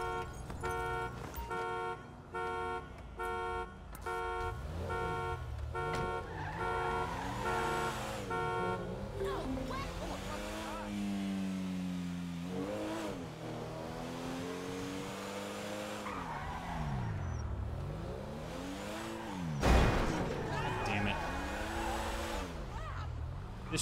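A Rolls car in Grand Theft Auto 5 drives and revs, its engine tone rising and falling in sweeping waves with tire squeals and a sharp impact near the end, under steady game sound.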